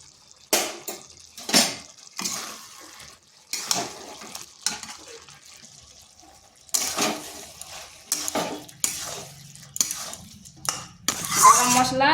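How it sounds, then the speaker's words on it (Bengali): A spoon scrapes and knocks in a pot of pumpkin curry being stirred with garam masala and kasuri methi, in separate short bursts with pauses between, close and moderately loud, ending with a brief sizzle. "গরম মশলা আর কসুরি মেথি ভালোভাবে মিশিয়ে নিয়েছি"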